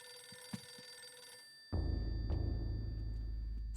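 A telephone rings inside the Eternal Darkness video game, a bright bell tone sounding faintly over eerie ambience before a loud low rumble suddenly takes over and continues beneath further faint rings.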